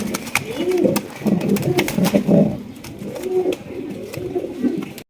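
Fancy racer pigeons coo in soft, repeated throaty rolls close by, several birds overlapping in a continuous murmur with faint background noise.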